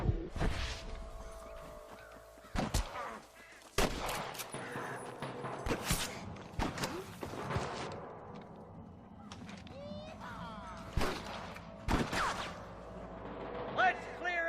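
Scattered gunshots in a Red Dead Redemption 2 shootout with snipers at Pike Basin, sharp isolated cracks and a few quick volleys, some near and loud, others fainter, over low ambient game sound.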